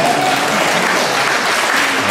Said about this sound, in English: Give our choir another big round of applause.